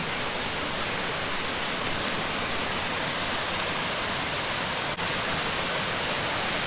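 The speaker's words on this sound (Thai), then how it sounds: "ข้างหน้าเนี่ยก็จะเป็นน้ำตก" Steady, dense roar of a resort waterfall, loud and continuous, with no voices and only a faint tap or two over the rushing water.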